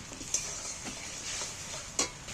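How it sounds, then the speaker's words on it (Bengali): Chilli powder and turmeric frying in hot oil for a Bengali pomfret fish dish, a soft steady sizzle punctuated by a few sharp scraping stirs of a spatula against the pan. "এবার আমি এটাকে তেলের মধ্যে একটু ভেজে নেব লঙ্কা হলদিটা"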